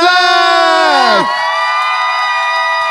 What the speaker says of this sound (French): Applaudissez pour notre invitée, Stéphanie Vandelac!